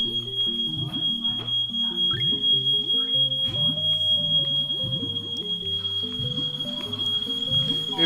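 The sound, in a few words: smoke alarm beeping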